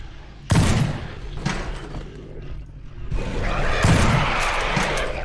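Several loud booming gunshots from the video game Fobia – St. Dinfna Hotel, sharp blasts followed by rumbling echoes, spaced irregularly over a noisy background.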